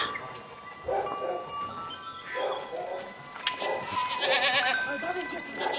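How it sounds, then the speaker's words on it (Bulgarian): A goat bleats in short wavering calls near a summer art academy in the Rhodope village of Skrebatno, Bulgaria, while a cowbell clanks irregularly and people talk nearby. "Как се казва тази коза?"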